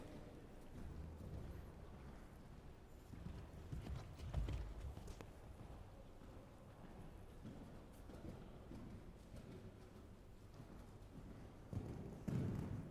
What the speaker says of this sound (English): let her canter there a little bit